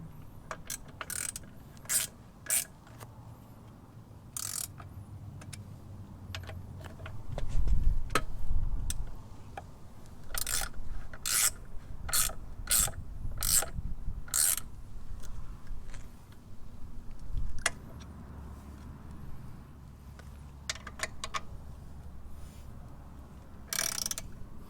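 A hand ratchet clicks in quick bursts of fast ticking while bolts are tightened on a saddlebag mount for an Indian Scout Bobber motorcycle, with pauses and faint mechanical handling between runs.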